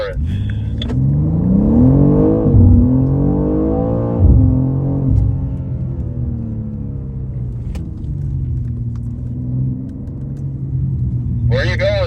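A BMW M2 Competition on a race track, its exhaust rising in a loud, droning pitch as it accelerates, with a brief surge and later a gear-change break, heard from the driver's seat.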